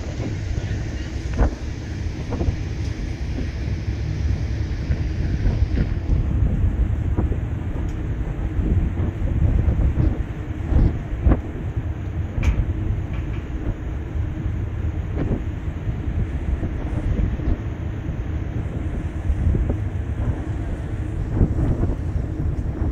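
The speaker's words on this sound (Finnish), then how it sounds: "Tosi kova tuuli, meinaa lähteä puhelin kädestä." Strong outdoor wind buffets a handheld phone microphone, a continuous low rumbling roar with gusty thumps and bursts throughout, loud and close, with no clear talking.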